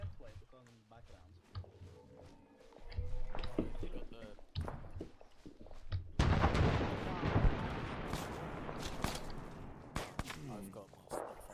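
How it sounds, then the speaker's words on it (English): Small arms fire, including an SVD rifle, crackles through a battle in the video game ArmA, with sharp scattered shots and a denser burst of gunfire in the second half, heard under voices talking over radio. "That's not mortars, that's small arms, SVD."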